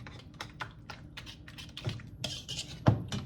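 Puto cheese batter being mixed with water in a bowl by hand, a steady run of quick, light taps and clinks of a utensil against the bowl, close and fairly quiet, with no talk.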